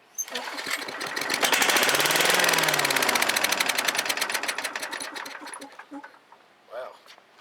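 A Craftsman chipper/vac petrol engine, left sitting for years, catches and roars up loudly, running rough and steady for several seconds before sputtering and dying away.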